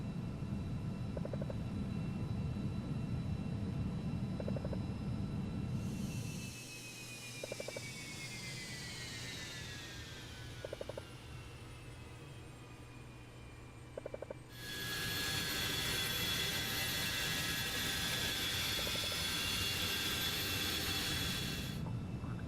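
Inside a simulated Carenado Falcon 50EX jet climbing in Prepar3D, a low steady engine drone fills the cabin, broken by a few soft clicks, with a bright rising whine swelling and shifting as the climb continues.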